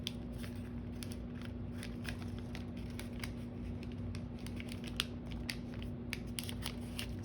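Gift wrapping paper being folded and creased by hand, a steady run of soft crinkling and rustling paper sounds with small crisp snaps, close and fairly quiet over a constant low hum.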